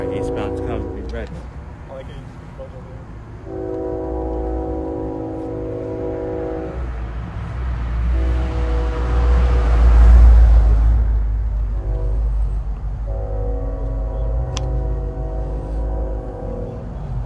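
An eastbound BNSF oil train approaches, with repeated loud horn blasts and a rumbling pass-by swelling in the middle, while a person talks over it.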